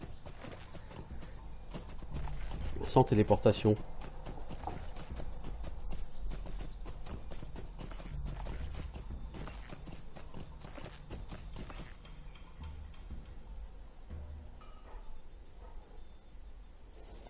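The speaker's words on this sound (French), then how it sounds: "on va faire tout le trajet à cheval" Steady clip-clop of horse hooves trotting along in the video game The Lord of the Rings Online, with a brief voice near the start and faint background music underneath.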